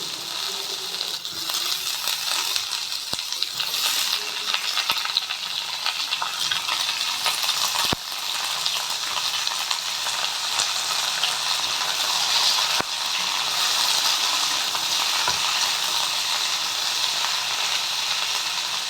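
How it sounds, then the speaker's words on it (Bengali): Potatoes and raw pumpkin fry in a pan with a steady, loud broadband sizzle, punctuated by occasional stirring scrapes, with no talking. "এবার আমি কুমড়োগুলো দিয়ে দেবো"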